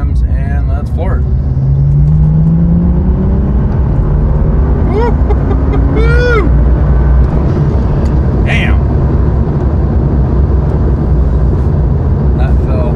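A custom-tuned BMW E30 goes to full throttle from 2,000 RPM, its engine roaring loud and steady from inside the car as it pulls hard, with rising whines and a voice speaking briefly over it.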